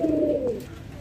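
A Raj-golla pigeon gives a single low, throaty coo up close. The call swells and then fades within about a second, and no one talks over it.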